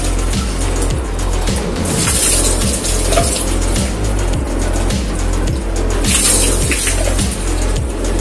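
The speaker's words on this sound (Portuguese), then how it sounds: "E agora a gente aproveita também a embalagem para enxaguar." Plastic playing cards and their packaging are rinsed under running water, a loud, continuous close gush with rhythmic sloshing as the items are swished, and no talking.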